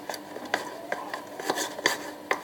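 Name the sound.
stirring milky slime mixture until it clumps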